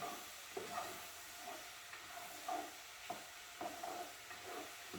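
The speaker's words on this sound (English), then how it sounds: "I'm going to carry on with the stirring of this now" Dry chicken curry stirred in a pan, soft rhythmic scrapes and sweeps of a spoon repeating about once a second over a low, quiet sizzle.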